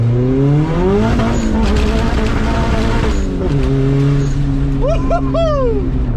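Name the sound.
Honda Civic accelerating hard on NT01 tires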